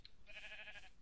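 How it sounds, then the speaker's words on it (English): A single short, faint sheep bleat in Minecraft, somewhat distant and heard on its own without speech. "I can hear the sheep, but I don't see him."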